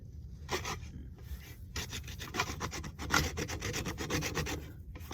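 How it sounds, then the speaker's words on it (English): A saw blade scrapes shavings off a dead, dry branch into an empty tin: close, rapid rasping strokes in uneven bursts, each a dry scratchy rub, with no talking. "start scraping shavings into it."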